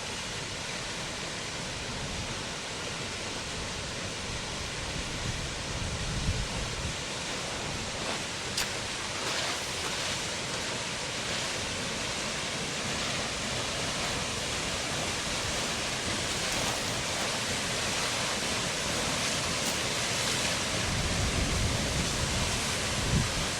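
Steady broadband roar of wind and falling water at Baxter Harbour Falls in Nova Scotia, loud and unbroken for the whole stretch, with no voices.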